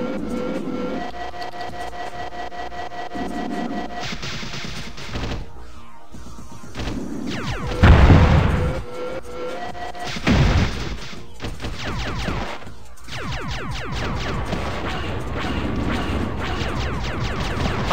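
Turret fire from a ship in the video game Starscape, heavy booming and crashing bursts over game music, with the loudest blasts near the middle and no talking.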